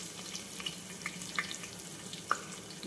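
Whole spices (cinnamon, cloves, bay leaf, stone flower) with green chillies sizzle gently in hot oil for a milk pulao, a soft steady crackle with a few faint pops and no talking.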